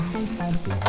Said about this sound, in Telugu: ఇప్పుడు నేను వేసేస్తాను సాంబార్లో, స్టవ్ కట్టేసేసి పోపు వేస్తున్నాను చూడండి.